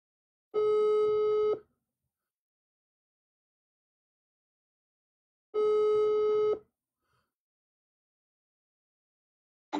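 Two identical telephone ringback tones sound during an outgoing call, each about a second long with a bright buzzing pitch, spaced roughly five seconds apart over silence.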